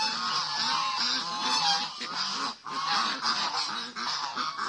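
Kars geese on a farm honking loudly and repeatedly, a dense flock of overlapping nasal calls close by, with brief dips between bursts and no speech.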